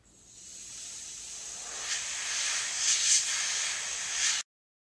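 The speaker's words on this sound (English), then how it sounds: "Many loose contaminants can be blown off using compressed air." Compressed air blows across a Semrock optical filter, a steady close hiss that swells slightly as the airstream sweeps the surface, then cuts off abruptly.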